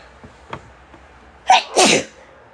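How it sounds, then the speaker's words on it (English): A single loud, close sneeze, preceded by a few faint sniffs and quick intakes of breath. "I start sneezing when I'm channeling."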